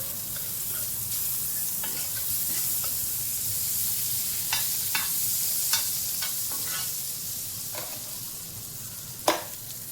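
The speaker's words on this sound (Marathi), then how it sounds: "तर मी बटर लावून घेते." Butter sizzling in a hot pan before strawberry pancake batter goes in, a steady close frying hiss with scattered soft pops and scrapes.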